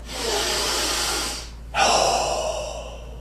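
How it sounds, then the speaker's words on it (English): A slow, deep breath drawn in with a long airy hiss, a short pause, then a strong exhale rushing out close to the mic, with no talking. "Take a deep breath."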